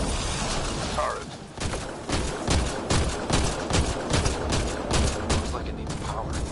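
A turret in Mass Effect Andromeda fires in rapid, rhythmic bursts of loud, sharp shots that repeat steadily over a constant background rumble.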